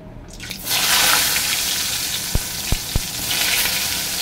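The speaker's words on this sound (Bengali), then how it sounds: "এবার এই পটলগুলো ভেজে নেব।" Pieces of pointed gourd (potol) hit hot oil and set off a loud sizzle that stays close and constant, with three sharp clicks of a utensil against the pan near the end.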